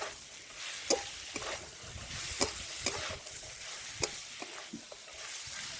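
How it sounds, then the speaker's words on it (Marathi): Tomato stir-fried in a pan over a village wood stove makes a soft, steady sizzle, with occasional light scrapes and taps of stirring; faint and close, no talking. "2 ते 3 मिनिटे छान परतून हा टोमॅटो शिजवून घ्यायचा"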